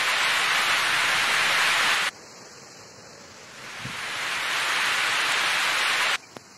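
Heavy rain with strong wind outdoors, a dense roaring wash of noise that cuts out abruptly, returns gradually swelling to full loudness, then stops again; no voices.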